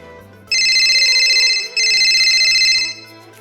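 A telephone ringtone plays two loud, steady electronic tone bursts, close by, over quiet background sounds in a Bangla drama scene.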